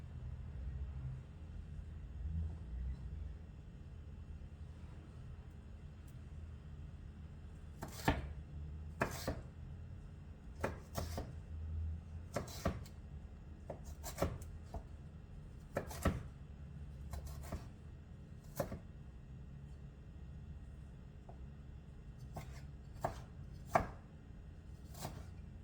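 A knife chops and dices a fresh piece of ginger on a board, with a dozen or so sharp, irregular taps over a low steady room hum, quiet and close with no speech.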